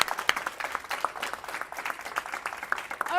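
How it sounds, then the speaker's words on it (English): Audience applause at a leadership workshop of a conference, a small room of people clapping in a brisk, uneven patter at moderate distance, fading slightly toward the end. "All right, round of applause for Dr. Gomez."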